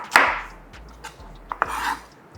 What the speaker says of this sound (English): So we're going to be chopping up a small onion into the pakora mix.